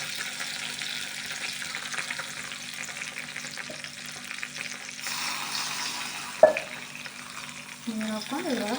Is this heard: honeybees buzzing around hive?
no